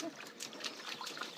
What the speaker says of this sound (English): Splash her again.